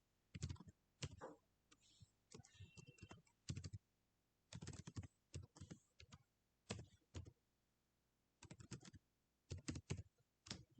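Python plotting code is typed on a computer keyboard in quick clustered bursts of key clicks separated by brief pauses. The clicks are close and moderately quiet, with no speech.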